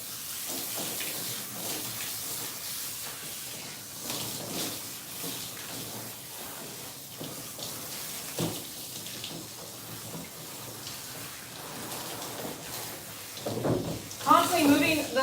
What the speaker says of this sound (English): Water underneath first,